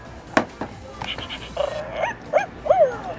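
A toy dog barks and whimpers after its paw is pressed, giving a few short, close yips followed by rising and falling electronic whines, clear and fairly loud with no talk over them.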